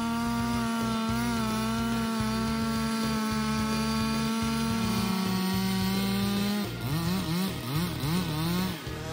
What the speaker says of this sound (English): see the amazing power of chainsaws